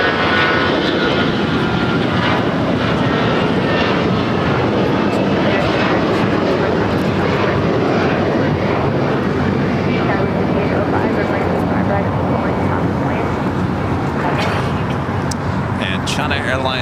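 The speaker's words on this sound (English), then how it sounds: "It's flight heading to Phoenix, Arizona, American Airlines, flight 3021" American Airlines Airbus A321 passenger jet at LAX, a loud, constant broadband roar of jet engines filling the whole stretch, with a voice talking over it.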